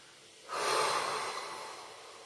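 A single long, forceful breath pushed out through the mouth during a breathing exercise, with the belly drawn in. It is close and breathy, starts suddenly and slowly fades over about two seconds.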